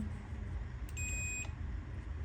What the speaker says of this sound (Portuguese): O multímetro na escala de bip, veja aqui 200, sinalzinho sonoro, bip.